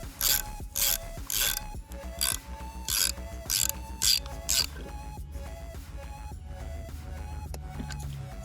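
A wrench tightening the nut on a lawn aerator wheel hub makes several quick bursts of ratcheting clicks, followed by quieter metallic mechanical rattling.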